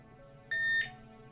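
A multimeter continuity test gives a single short electronic beep, high-pitched and steady, for about a third of a second against faint background hum, while testing a GTX 580 graphics card.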